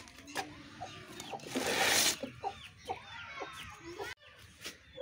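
A rooster clucks several times close by, short throaty calls among rustling and a brief gust of wind-like noise.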